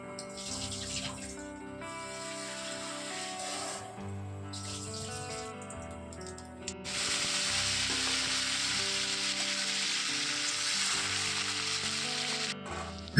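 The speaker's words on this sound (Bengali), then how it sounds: "আলুটাও ধুয়ে তেলের মধ্যে দিয়ে দিলাম," Washed potatoes go into hot oil in a wok with cumin, bay leaves, dried chillies, cinnamon and cardamom. A quieter tonal passage gives way to a sudden, loud and sustained hissing sizzle that runs to the end.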